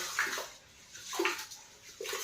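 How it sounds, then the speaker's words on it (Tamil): Idli rice being washed by hand in water in a kitchen, with close sloshing and swirling splashes in short repeated bursts. "இப்போ நம்ம எடுத்திருக்க இட்லி அரிசியை நல்லா தண்ணி ஊற்றி நல்லா நாலு அஞ்சு தடவை க்ளீன் பண்ணி நல்லா கழுவிடுவோம்"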